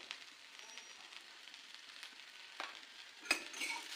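Okra frying in a pan, a quiet, steady crackling sizzle with a couple of sharper pops and a stir near the end, no voices.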